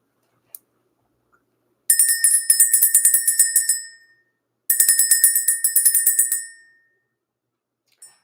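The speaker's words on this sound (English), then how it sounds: "let's go ahead and ring the bell" A bell rung to clear energy trills in two rapid bursts, each a quick ringing run lasting about two seconds before fading, with a couple of faint single taps around them and no talk.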